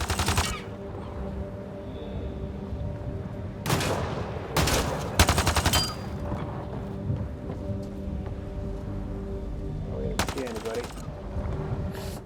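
Video game gunfire in Mass Effect Andromeda on the planet Eos: bursts of automatic fire in short volleys near the start and middle, over a steady ambient drone, with someone talking in between.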